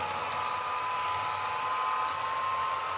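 A scratch-built PRR 6-8-6 turbine model locomotive plays a sound effect meant to imitate a turbine motor, giving a steady, even hiss and whine much like a hair dryer, with no talking.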